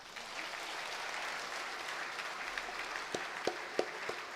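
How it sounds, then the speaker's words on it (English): An audience at a PSG College of Technology Foundation Day ceremony applauds the chief guest: a sustained, even wash of many hands clapping at a moderate distance, with a few sharper, louder claps standing out toward the end. "we are all excited to welcome the chief guest with a big round of applause"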